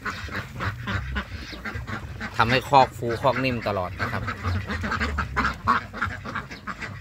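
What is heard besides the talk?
ducks quacking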